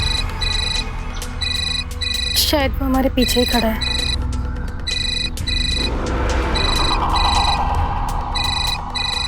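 A landline-style telephone ringtone repeats in steady bursts through a tense Hindi crime drama scene, loud and close, with people talking over it as the rings continue.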